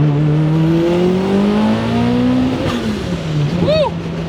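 A 600-horsepower tuned Toyota RAV4 with a fully built motor and an 8,000 RPM redline revs loudly and close, its engine note rising and falling steadily, then swooping sharply near the end, with people talking over it.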